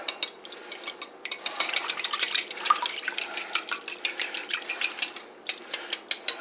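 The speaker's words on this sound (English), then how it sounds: "I add my milk to that" A utensil whisks milk into eggs in a bowl for a scrambled-egg breakfast casserole, giving quick, wet clicking strokes in an uneven rhythm, close and clear with no voices.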